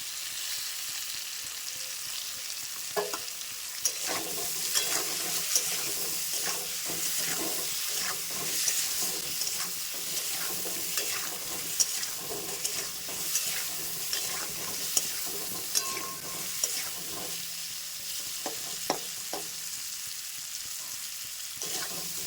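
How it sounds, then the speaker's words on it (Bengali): Potato pieces fry in oil seasoned with turmeric and salt, a constant sizzle broken by repeated scraping stirs against the pan across the whole stretch, and no voices are heard. "আলুটা ভাজা হয়ে গেছে তুলে নেবো"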